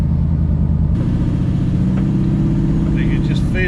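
A Ford Mustang S-Code Fastback's big-block V8 idles with a deep, steady rumble, then swells louder and fuller as it revs. Voices talk over the engine near the end.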